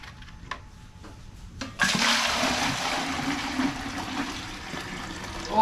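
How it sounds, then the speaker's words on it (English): Creek water pours in a steady, rushing stream into a cooking pot at an outdoor stove, faint at first and then louder after a couple of seconds. The splashing continues without talk. "Now I'm going to tip the water into the pot"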